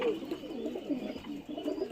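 Young homing pigeons coo in low, repeated throaty phrases, close and steady for a couple of seconds.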